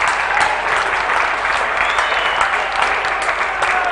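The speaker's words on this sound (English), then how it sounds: "A bit of cheer squad action as well" Cheer squad roaring and clapping at a Collingwood VFL football match against Sandringham, a dense, steady crowd din lasting throughout with no pauses.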